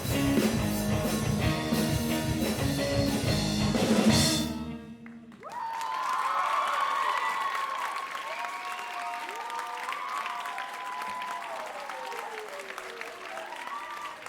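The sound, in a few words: audience applause for a school band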